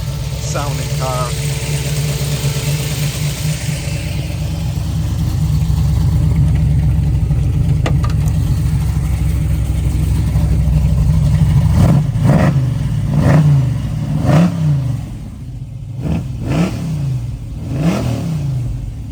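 Dual exhaust on a 1967 Chevrolet Camaro: the engine idles with a deep rumble, then revs up in several swelling bursts that rise and fall before settling, loud and close.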